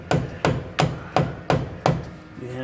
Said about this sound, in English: you hammer it in, and that's all you do.